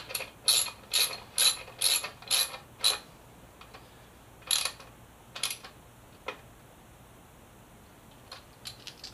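A ratchet tightens the bolts on a Yamaha FZ6R throttle cable plate: about seven quick bursts of close clicking, then a few sparser clicks over a quiet background with no talk.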